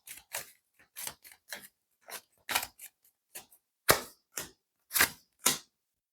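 Tarot cards handled and drawn from a deck, heard as a run of crisp, close snaps and flicks in an irregular rhythm, with no voices.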